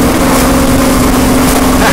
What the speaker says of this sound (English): In this 1972 Dodge pickup truck.